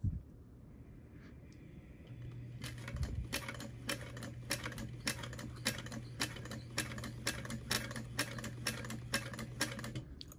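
Domestic sewing machine running a steady stitching pass along the long edge of a fabric Heartbreaker wallet, a continuous motor hum with regular rapid needle ticks for several seconds, close and clear with no talk.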